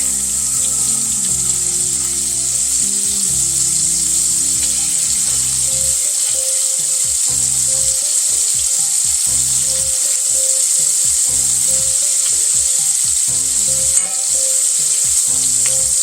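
Steak frying in a hot pan for a steak sandwich gives a loud, steady sizzle that runs without a break from start to finish, with no voices.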